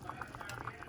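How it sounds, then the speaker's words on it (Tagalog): A pot of pompano sinigang, a sour Filipino fish soup, bubbling at a steady boil, a soft continuous bubbling and simmering close by with no talk over it. "Kulo siya."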